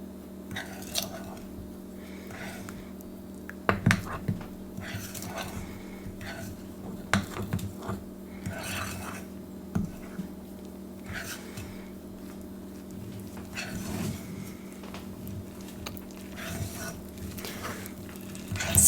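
Banana bread batter with a half teaspoon of salt being stirred in a bowl, soft wet squishing and scraping strokes repeating close up with a few sharper clicks, no talking.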